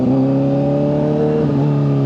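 A Nissan 240 pulls up close by with its engine revving loudly, a steady strong note that climbs and settles over a couple of seconds.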